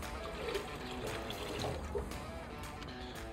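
Motor oil pours into a seven-quart oil pan on a 351W 408 stroker engine build, a steady liquid glugging and trickle close by, fairly quiet and unbroken.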